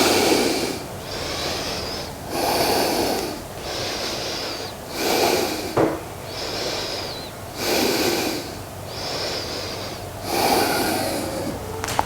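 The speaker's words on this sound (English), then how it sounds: "Breathing deep into that belly." Slow, deep breaths in a yoga bridge pose: about six loud, close inhale and exhale cycles in a steady rhythm, airy and slightly nasal, with no talking.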